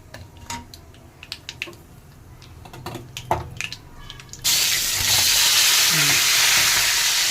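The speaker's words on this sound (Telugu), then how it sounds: "తిరగమాతంతా వేగినాక మిరపకాయలు వేయించాలి" Dried red chilies frying in tempering oil for a raw banana curry, starting with clinks and light crackles, then a sudden loud, steady hiss as the chilies hit the hot oil, with no voices.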